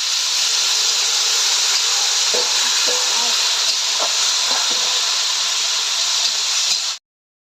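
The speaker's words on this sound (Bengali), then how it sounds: "ডাটা ভাজা হয়ে গেলে অল্প জল দিয়ে দেবো।" Water poured over frying stalks in a hot pan sends up a loud, continuous steamy hiss that fills the whole stretch, with faint stirring clicks underneath before it cuts off abruptly.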